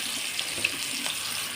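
Flour-dusted onion sizzles in hot oil, a soft, steady crackling hiss with faint scattered pops, heard close and fairly quiet with no talking.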